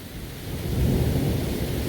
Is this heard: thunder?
yes